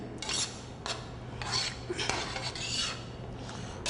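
A spoon scraping and stirring a seasoned rice pilaf mixture, flavored with pepper, in a metal pot, in repeated rasping strokes over a steady low hum, moderately close and with no talk.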